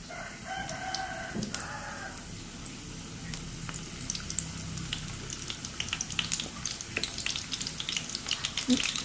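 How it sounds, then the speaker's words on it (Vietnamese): Oil sizzles and crackles steadily as oyster mushrooms deep-fry, with scattered pops growing busier; a rooster crows faintly in the background early on. "chiên từ từ như vậy cho đến hết những cái cây nấm của mình"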